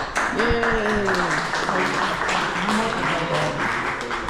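An audience claps at the end of the Casa Bacardi rum tour in Puerto Rico. The applause is steady and fairly close, while people talk and call out over it.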